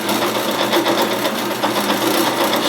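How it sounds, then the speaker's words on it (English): A drill press spinning up in a workshop where guitar knobs are being modified, giving a steady, loud motor whir with rapid mechanical fluttering that holds constant throughout. "I'm going to spin up the drill press"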